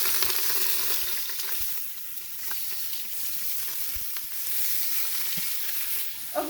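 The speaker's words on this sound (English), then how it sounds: "while that is searing for a couple minutes" Beef sears in an Instant Pot, a steady close sizzle and hiss of frying meat with a few faint clicks and shifts, no voices.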